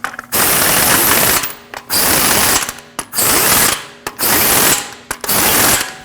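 A ratchet snugs the wheel lug nuts on a 2014-2023 Jeep Cherokee, giving loud close runs of rapid clicking in five bursts with short pauses between them.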